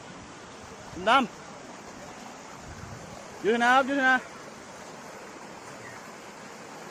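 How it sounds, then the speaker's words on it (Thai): Steady broadband rush of falling water at Nang Rong waterfall, continuous and moderately loud throughout, with someone speaking briefly over it in two short bursts. "วันนี้เราก็มาเที่ยวน้ำตกนะครับ"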